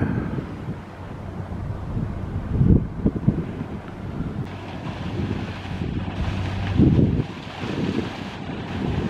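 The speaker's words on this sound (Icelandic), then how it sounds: "Það er fyrsti báturinn kominn." Fishing boat with nets coming into Sandgerði harbour in Iceland, heard from the north breakwater as a low engine rumble under heavy wind buffeting and surf, rising in two gusty swells.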